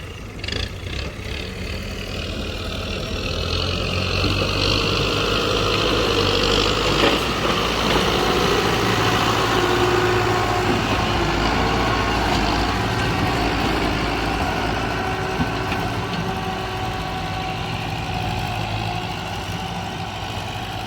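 A tractor engine runs steadily at idle after rain, a low continuous rumble and chug throughout with no voices.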